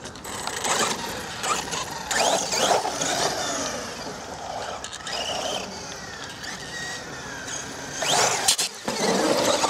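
A Mini MT4 G3 RC monster truck running in four-wheel drive gives a whining electric motor and gear drive that surges and fades in bursts, with squealing and rattling as it accelerates, close and fairly loud.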